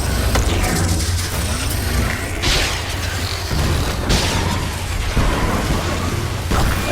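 Rocket blasts during a fight in the video game Hellpoint: heavy booming explosions and rumbling impacts over a dense, continuous mechanical din, loud and sustained with several distinct bursts.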